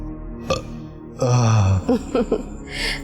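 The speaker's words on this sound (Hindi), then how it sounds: "मुझे तो लगता है तुम्हारा पेट खाली पेट डकार ले रहा है।" A single low, drawn-out burp with a falling pitch sounds in a Pakistani TV drama scene at home, followed by a few short vocal noises and a soft exhale.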